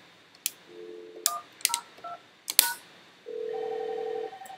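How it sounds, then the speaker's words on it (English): A number is dialed on a Yealink T28P IP desk phone: a few short key beeps and clicks at irregular spacing, then a steady tone near the end, heard close and quiet with no one speaking. "Now, we can do a quick trial on calling that phone number."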